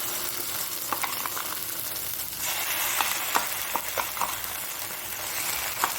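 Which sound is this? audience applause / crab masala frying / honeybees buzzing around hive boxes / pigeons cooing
crab masala frying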